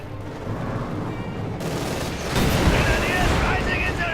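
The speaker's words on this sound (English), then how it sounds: "straight into the MG-42's arc of fire and into the tank's arc of fire" Automatic gunfire from an MG-42 machine gun in the strategy video game Company of Heroes 2, a dense rattling fusillade that swells louder partway through, mixed with explosions and battle noise.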